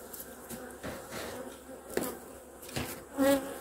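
Honeybees buzz steadily at a beehive during a winter check, a close, continuous drone with faint knocks and handling noises scattered through it and no talk.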